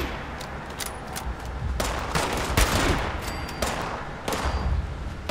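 Gunfire in Fallout 76 during a chaotic multiplayer fight, with repeated close shots and bursts of rapid fire over a dense background of game noise.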